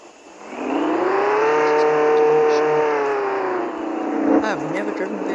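Car engine revving and accelerating in the Roblox Jailbreak video game, a steady loud drone that rises and holds, then dips and wavers near the end.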